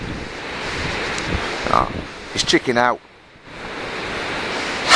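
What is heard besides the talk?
river water flowing in Iceland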